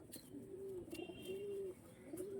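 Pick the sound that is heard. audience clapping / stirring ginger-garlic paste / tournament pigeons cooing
tournament pigeons cooing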